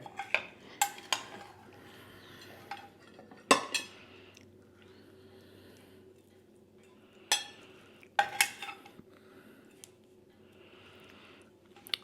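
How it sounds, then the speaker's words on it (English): Metal utensil scrapes and clinks against a pan while enchilada meatloaf is sliced, sparse sharp taps and brief scraping bursts separated by quiet pauses. "I think I'm going to go ahead and try to slice this."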